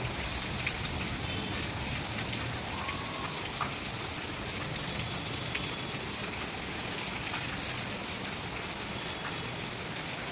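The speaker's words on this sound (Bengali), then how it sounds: "জোর বৃষ্টি নেমে গেল।" Heavy rain pours steadily on a street beside a temple wall where construction has stopped, a dense, continuous hiss of drops that stays loud and unbroken throughout, with no voices.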